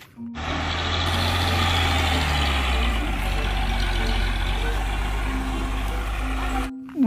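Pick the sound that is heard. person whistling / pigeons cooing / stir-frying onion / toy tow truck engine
toy tow truck engine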